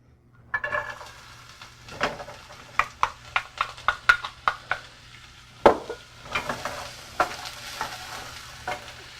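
Chopped onion frying in about a teaspoon of canola or olive oil, with a light sizzle broken by a rapid series of sharp spoon-on-pan stirring knocks, close and distinct.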